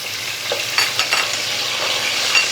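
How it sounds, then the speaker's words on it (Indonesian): Spices stir-fry in hot oil, giving a steady close sizzle with a few soft scrapes and stirring clicks, and no talking. "Minyaknya sudah panas, masukkan, tumis dulu bumbunya."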